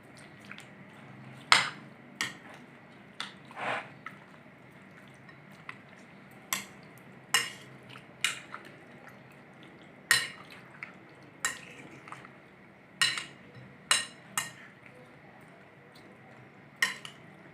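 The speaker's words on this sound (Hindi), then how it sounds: "अच्छी तरह से मिक्स कर देंगे।" Wet squishing and clacking as chicken with ginger-garlic paste marinade is mixed in a bowl, irregular sharp knocks every second or so over a quiet background.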